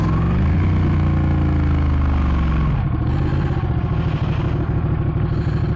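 A Ducati 899 Panigale sport bike pulls away with its engine note rising in pitch, then settles into a steady, loud, close, throbbing run with a dense low rumble throughout.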